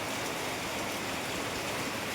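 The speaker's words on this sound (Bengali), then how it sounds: "আমাদের এখানে যা বৃষ্টি পড়ছে মানে ধারণার বাইরে" Heavy rain pouring steadily outdoors, a dense even hiss of falling water without pauses, fairly faint and with no talking.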